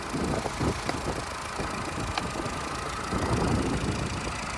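A used car's engine idles at an open-air car market in Lutsk, a steady low rumble with faint knocking throughout and no speech.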